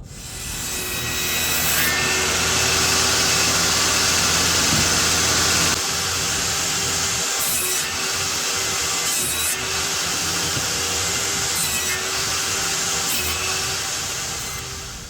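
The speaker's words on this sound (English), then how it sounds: "Let's get the table saw set up and let's get going." A table saw cuts wood for a pallet, its motor whining loudly and steadily for the whole stretch while the blade's bite rises and falls in a few harsher bursts.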